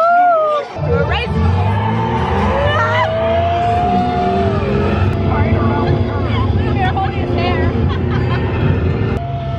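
A race car ride at Disneyland, with a loud, steady engine roar and whirring machinery close by, mixed with excited voices and shouting riders throughout.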